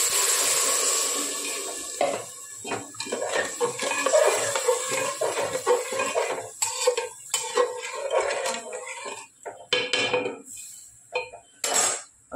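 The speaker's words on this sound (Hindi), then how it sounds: "पानी डाल दूंगी।" Water poured into a pan of frying moong dal in a home kitchen, with splashing and clattering pot and utensil sounds in irregular bursts, close and fairly loud, with no talking.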